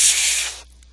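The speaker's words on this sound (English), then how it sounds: "She goes to spray her mist at him" Mist spray at a wrestling match, a single short loud hiss of about half a second that fades quickly.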